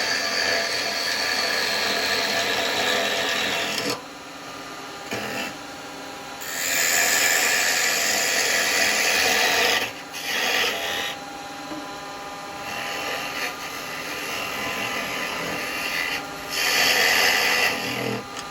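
A chisel held like a scraper against a small wooden pot turned from an off-cut on a lathe gives steady rasping, scraping passes in several stretches separated by brief pauses, close and fairly loud.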